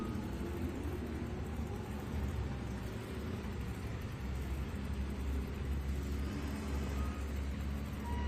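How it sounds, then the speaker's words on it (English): At a truck pull, a modified four-wheel-drive 1972 Ford with a 648 cubic inch Ford Hemi gives off a steady, faint, broadband roar and rumble from a distance, with no talking. "So Doug Bradshaw, 1972 Ford, 648 cubic inch Ford Hemi underneath the hood of this truck."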